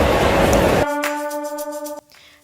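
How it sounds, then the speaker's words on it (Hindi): A Sentosa Island monorail in Singapore rolls in with a loud, rushing rumble, then a sustained, tuned horn-like tone rings for about a second with faint clicks before fading. "ये देखो सामने से आ गया मोनोरेल।"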